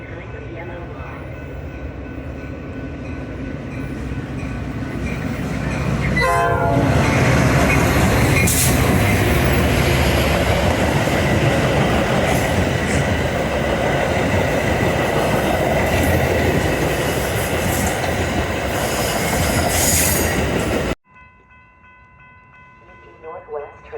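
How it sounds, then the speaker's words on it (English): A Union Pacific Northwest line commuter train runs through a suburban station near Chicago without stopping, building to a loud, close roar of wheels and rumbling cars that holds for about fifteen seconds, then cuts off abruptly. "The next outbound train approaching your station will not stop."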